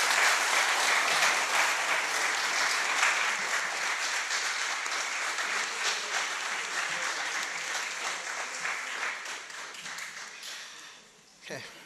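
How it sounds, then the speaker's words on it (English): An audience at the Keene Chautauqua MLK Jr event bursts into dense, sustained applause that stays loud and close, gradually thins over about ten seconds and ends with a few last claps. "give yourself a round of applause"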